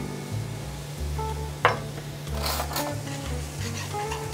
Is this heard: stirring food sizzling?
yes